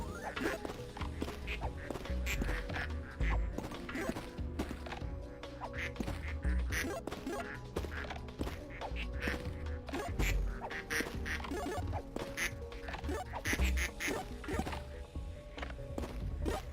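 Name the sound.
ducks quacking in a video game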